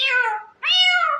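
A cat meows twice, close and clear, two drawn-out calls separated by a brief pause.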